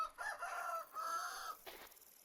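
Chickens in the video game Vintage Story, a couple of drawn-out clucking calls in quick succession, fairly close and clear with a faint background.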